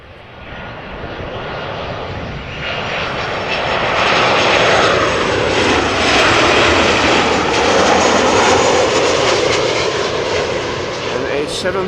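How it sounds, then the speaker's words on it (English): A 13-year-old Georgian Airways Boeing 737-700 arriving from Tbilisi at Amsterdam Schiphol roars in, its jet engine noise building from moderate to a loud sustained rush, with a voice talking over it. "And a 737-700 from Georgian Airlines. Arriving from Tbilisi, Georgian Airways."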